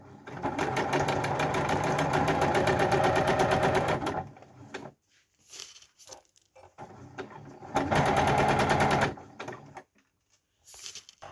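A sewing machine stitching in two bursts of rapid, even mechanical chatter, close and loud, separated by a quiet pause with faint handling knocks.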